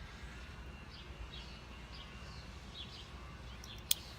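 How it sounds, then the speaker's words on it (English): Small birds chirp faintly in short, scattered calls overhead in an outdoor London setting, heard alone over a low, steady background rumble, with one sharp click near the end. "These birds are flying all over right above me."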